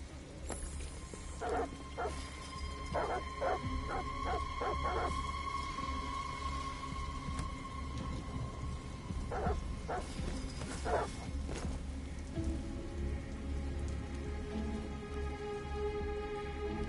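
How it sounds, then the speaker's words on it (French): Dogs bark in short bursts of several rapid yelps at a distance in the video game Detroit: Become Human, over steady rain and stormy background noise. "Après quoi ils aboient encore?"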